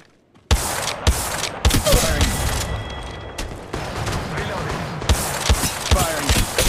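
Rapid bursts of gunfire from Apex Legends Mobile in a sniper-and-shotgun mode, loud sharp shots repeating in quick clusters under game effects and a character's callouts.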